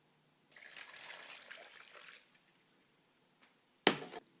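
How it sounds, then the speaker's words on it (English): Boiling water pours in a short stream for about two seconds onto tarnished silver with baking soda, then stops. Near the end comes a sharp clink of something set down. "Add 2 more cups of boiling water."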